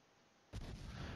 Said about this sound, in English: I'm going to keep firing my cannons.